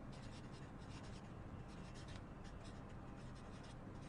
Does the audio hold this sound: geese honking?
no